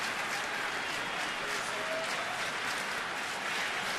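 Steady applause and crowd noise from spectators at a Miami at Washington baseball game, a dense even clapping wash held at moderate level throughout.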